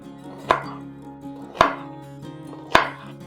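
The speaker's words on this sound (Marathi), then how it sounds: "मी इथे कांदे कापायला घेत आहे. कांदे उभे लांबच कापायचे." Onions being cut lengthwise with a knife on a board, three sharp, evenly spaced chopping thuds about a second apart, close and clear over a quiet background with no talking.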